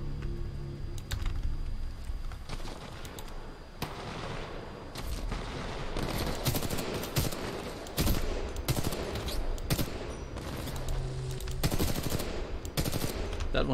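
Gunfire in the shooter video game Titanfall 2, including headshots: dense, rapid bursts of sharp shots and clicks crackle almost continuously for about fourteen seconds at a steady, close loudness, with no talking.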